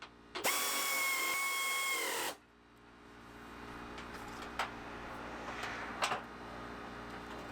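A power tool spins up with a whining buzz for about two seconds, driving bolts back into the hood hinge of a high-mileage Pontiac Grand Am GT. It stops abruptly, leaving quieter background noise with a few faint knocks.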